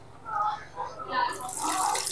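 Separated water is poured off chilled coconut milk into another container while making homemade coconut oil, a soft trickling splash heard under a person talking.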